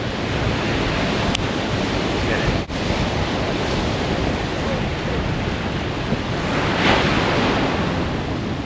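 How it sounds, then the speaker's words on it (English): Big ocean surf off Nantucket roars continuously, a dense wash of breaking waves mixed with wind buffeting the microphone. "we got some big surf"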